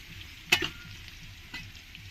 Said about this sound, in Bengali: আলুগুলো প্রায় ভাজা হয়ে এসছে